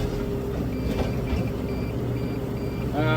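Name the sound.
machine warning beeping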